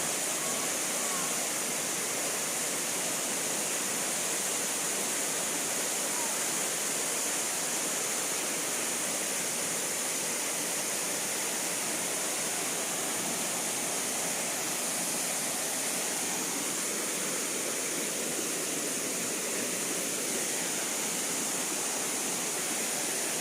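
Water rushes at Soi Sawan waterfall in Thailand in a dense, constant roar that runs unbroken and fairly loud with no voices.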